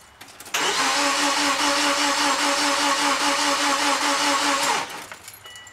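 A Subaru Impreza engine cranks on a newly swapped starter motor, a loud, steady, rhythmic whirring churn lasting about four seconds before stopping abruptly, close up with no talking.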